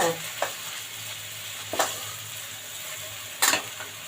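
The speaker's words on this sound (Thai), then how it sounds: "ใส่พริกแกงเราลงไปผัดเลยนะคะ ผัดพริกแกงให้หอมค่ะ" Thai red curry paste stir-frying in a pan over low heat for catfish curry, a steady close sizzle with three sharp scraping strokes of a spatula spaced through it; no voices.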